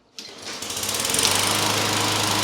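Lawn mower engine catching after a short pull and quickly revving up into a steady, buzzing run, close and loud with no voices.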